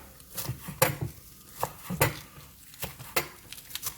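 Knife tapping through spring onions on a chopping board, cut thinly at an angle, in light irregular strikes with some clinking of kitchenware, close and fairly quiet.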